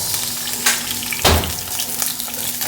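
Onions dropped into a hot pan for a Filipino chicken-and-tomato dish, a steady sizzling hiss with a brief louder burst as they hit the oil, close and alone.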